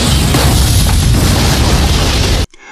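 A loud, sustained explosion from a recap of a war-themed school film, a dense roaring blast that fills the clip and cuts off abruptly near the end.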